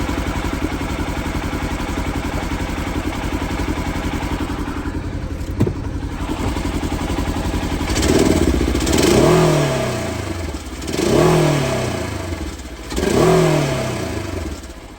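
A Polaris side-by-side UTV engine idles steadily at close range just after an oil change, then revs up three times in quick surges, each climbing and falling back to idle.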